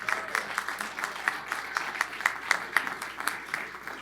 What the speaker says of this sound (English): When your boss starts off the clap